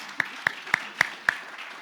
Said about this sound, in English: let's please clap for her.